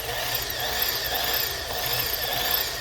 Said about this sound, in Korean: 이 옆날을 이용해서 구멍을 뚫으실 수 있겠고요